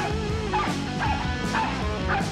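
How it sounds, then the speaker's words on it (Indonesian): A dog barking simulator gives repeated yapping barks and whimpers, about three in quick succession, loud and close over a steady background, with no talk. "Bagaimana kalau ada simulator anjing menggonggong yang pasti tidak akan membiarkan saya menyerah?"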